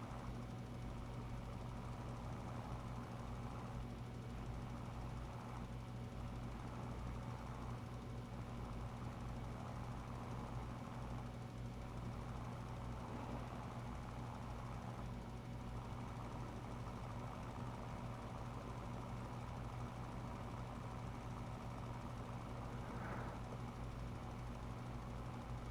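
A tractor engine in Farming Simulator 25 runs at a steady low rumble throughout, a continuous mid-pitched mechanical drone with no break and no voices.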